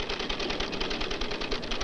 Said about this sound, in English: Well, now, even a typewriter has something to say.